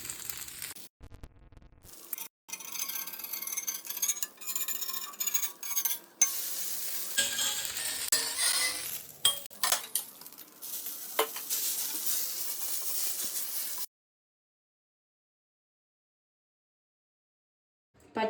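Ghee sizzles and spatters in a hot pan while a dosa cooks, a steady bright frying hiss with brief gaps and scraping, running for about fourteen seconds before cutting to near silence.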